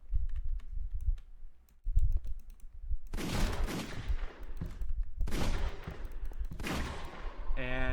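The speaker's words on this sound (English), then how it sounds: "you get a baton, and you get a gun, and I can shoot the gun" Black Widow's gun fires in a Minecraft Legends Marvel superheroes mod. Soft clicks come first, then three loud bursts of rapid gunfire set apart by short pauses, with a brief tonal game sound at the very end.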